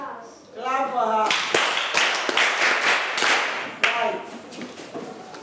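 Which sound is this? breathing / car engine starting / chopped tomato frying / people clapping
people clapping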